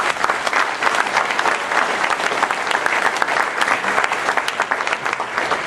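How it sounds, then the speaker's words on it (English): A crowd at a Hall of Fame induction dinner gives a round of applause for coaches, loud, dense and steady clapping filling the room without pause and with no talk over it. "I'd just like to give them a round of applause"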